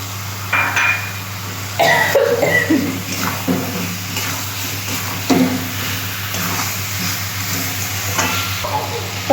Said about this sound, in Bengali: মশলার সাথে লাউগুলো আমি একটু কষিয়ে নেব মটরশুঁটি আছে আমি মটরশুঁটিটা দিয়ে দিলাম